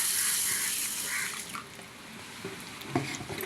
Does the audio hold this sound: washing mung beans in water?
yes